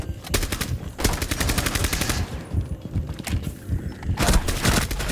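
Rapid automatic gunfire from a video game shooter bursts in close, loud rattling volleys, with short pauses between bursts and a final burst near the end.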